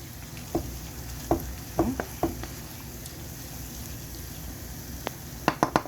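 Butter and flour cook together into a roux in a pan with a soft, low sizzle, while a utensil scrapes and taps against the pan in short, scattered bursts.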